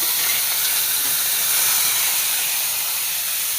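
Carrot dropped into a hot pan on a Malayalam kitchen stove for carrot chammanthi gives a steady, loud, close sizzle and hiss that holds evenly throughout with no voices.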